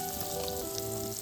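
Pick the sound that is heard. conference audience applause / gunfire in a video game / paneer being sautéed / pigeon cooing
paneer being sautéed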